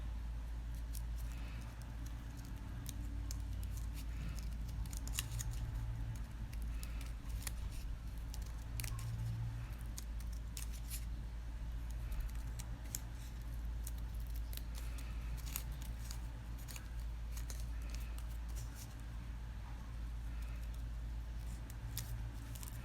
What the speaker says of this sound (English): it helps if you have like a kind of thin and pointy scissors